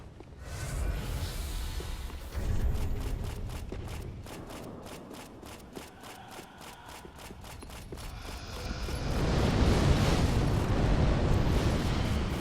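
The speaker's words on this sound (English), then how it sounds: "They're shooting fireballs at my butt." Enemy fireballs in Dark Souls 3 raining in: a run of rapid rhythmic pulses, then a heavy roaring burst of fiery rumble building loud toward the end, with no talk.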